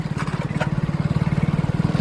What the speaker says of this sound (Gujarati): આપણું ટ્રેક્ટર આવે છે પાછળ